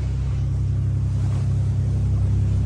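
Speedboat engine running near Palawan beach, a loud, close, steady low-pitched motor drone with rushing water noise, continuous for the whole moment with no talking.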